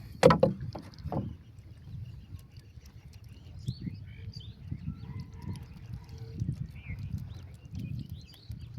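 A small wooden rowboat on a fishing wetland is swung around, sharp knocks of wood at the start, then soft irregular thumps and water sloshing, with faint birds in the distance.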